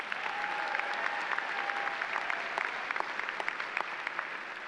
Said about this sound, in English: Let's have a round of applause again for all of our award winners.